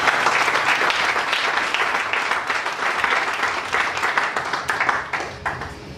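A church congregation applauds at a Sunday service, filling the room with steady, dense clapping for about six seconds. A few sharper individual claps stand out near the end.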